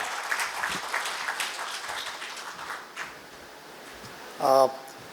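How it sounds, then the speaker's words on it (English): Applause from the audience at the Global Forum for Quality Skills and Entrepreneurship in Mumbai, moderately loud at first then thinning and fading, with a short tonal sound near the end. "A big round of applause for Mr. Tejwan Singh Chatwal."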